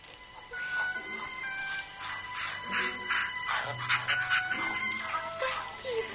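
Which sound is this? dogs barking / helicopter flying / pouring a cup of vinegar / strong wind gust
dogs barking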